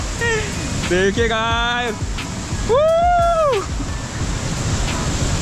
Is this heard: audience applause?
no